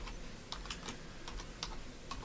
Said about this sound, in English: just typing up everything myself here